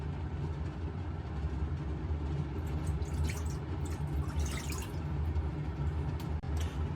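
Water streams into a pan already holding sake, soy sauce and mirin for simmered fish sauce, a steady pour with light splashing against a low kitchen hum.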